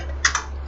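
A computer keyboard gives two quick, close keystrokes while someone types a short word, over a steady low hum, with no talking.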